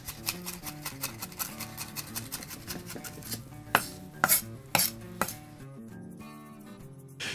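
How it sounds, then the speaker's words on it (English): A knife chopping herbs and garlic on a wooden board for board sauce, rapid, rhythmic close taps that loosen into a few heavier, sharper knocks before trailing off, alongside soft background music. "And then I'm going to continue to chop it until it's nice and smooth."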